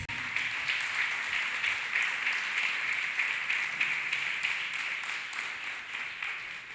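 A church congregation claps together in a sustained, even wash of applause that gradually softens toward the end.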